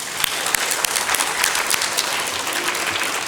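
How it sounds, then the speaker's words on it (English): Dense, sustained clapping from a sizable audience, loud and continuous throughout without pause. "A big round of applause for our chairman, sir, first."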